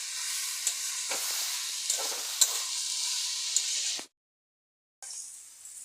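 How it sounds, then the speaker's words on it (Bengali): Banana flower curry is stirred in a hot pan, producing a bright steady sizzle with a few soft spoon knocks, then a second of silence before the sizzle returns. "ভালো করে নেড়ে দিচ্ছি"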